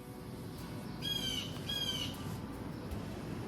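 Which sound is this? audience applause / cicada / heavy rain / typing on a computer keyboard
cicada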